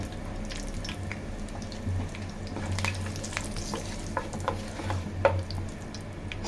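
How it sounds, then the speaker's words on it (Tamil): Soft, continuous sizzling of curry leaves frying in hot oil with occasional stirring scrapes and small pops, moderately close and fairly quiet. "இப்போ ஆயில் ஹீட் ஆகிடுச்சு இதில் வந்து நம்ம வந்து கருவேப்பிலை போட்டுக்கலாம்"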